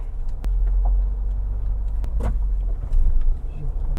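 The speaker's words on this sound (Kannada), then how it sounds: "ನೋಡಿ 4x4 ಆ್ಯಕ್ಟಿವೇಟ್ ಆಗಿದೆ. ಸೊ ಆರಾಮಾಗಿ ಕ್ಲೀನಾಗಿ ಎದೋಳುತ್ತೆ ಗಾಡಿ." A Mahindra Thar in 4x4 mode drives along, its engine a steady low rumble that continues throughout, with a brief louder surge near the end and a light rattle of keys or cabin items.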